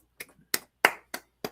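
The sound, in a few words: golf clap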